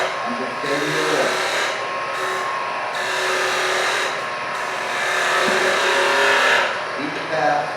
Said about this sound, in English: using the bevel to bring the cut and take it off. I'm just shaving it away